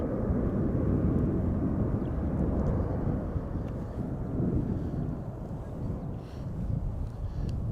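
A KLM Embraer 190 jet taking off at Schiphol Airport, heard as a steady, loud broadband engine roar that holds for the whole stretch, with some wind buffeting on the microphone.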